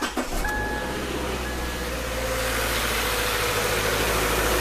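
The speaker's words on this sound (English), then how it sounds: "I'm going to start the vehicle up" Vehicle engine starts with a brief cranking whir and catches, then settles into a steady, close idle hum with a faint electronic tone at first and no talking.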